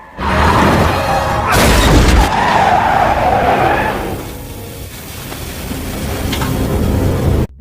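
Tires screech as a car skids hard through a film chase scene, a sharp loud impact cutting in early, then the engine roar and grinding slide carry on and fade toward the end.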